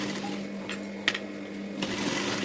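A sewing machine topstitching a blouse runs with a steady, close mechanical whir and a few light clicks, with no voices.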